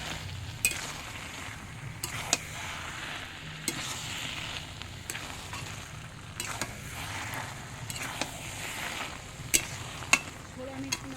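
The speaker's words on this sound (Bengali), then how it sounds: "শুধু নেড়ে যেতে হবে, নাহলে কড়াই আবার ধরে যায়" Spiced taro greens fry and sizzle steadily in a wok while a spatula stirs them, scraping and clinking against the metal in irregular sharp knocks over a continuous crackle.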